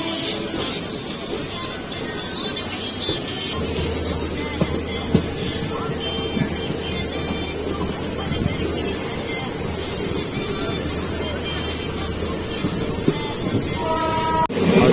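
Passenger train on the Bareilly to Tanakpur line, heard from on board as a steady rumble and rattle of wheels on track with a low drone, loud and continuous, under occasional talk.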